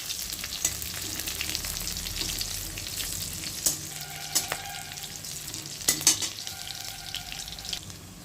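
Tomato frying in hot oil in a pan, a steady close crackling sizzle with occasional sharper pops and scraping stirs.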